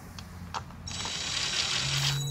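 Ratchet tightening fan clutch bolts during cooling system repair, a few separate clicks followed by a continuous rapid ratcheting buzz, close and moderately loud with no talking.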